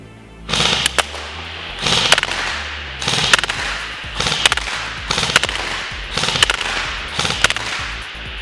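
A Classic Army CA4A1 airsoft replica with a 603 barrel fires BBs in repeated bursts, about seven rattling volleys of rapid cracks with short pauses between them, close and loud, with no talking.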